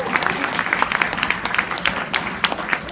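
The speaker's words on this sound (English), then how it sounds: "we can give them a round of applause" Audience applause at a school instrumental concert at Flora Singer, steady dense clapping from a crowd filling the whole stretch with no pauses.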